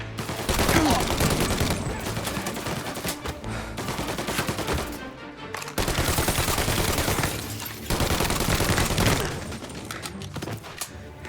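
Rapid gunfire from the video game Mafia Definitive Edition crackles in loud, sustained bursts broken by short pauses, dense and close throughout.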